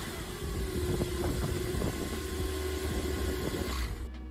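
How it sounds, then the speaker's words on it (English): A new Porsche Turbo S engine sounds a steady, muffled mid-range drone with a low rumble underneath, holding constant for a few seconds before cutting off. "listen to the new Turbo S Porsche."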